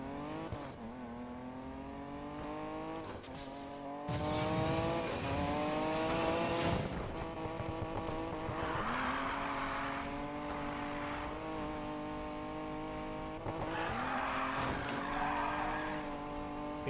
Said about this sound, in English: decided to go for a drive and do a little bit of drifting